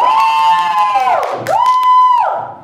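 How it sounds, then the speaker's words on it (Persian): A crowd gathered below a government building's balcony cheers, loud sustained voices swelling in two long surges that rise, dip, then fade. "ناگهان جمعیت تشویق می‌کنند."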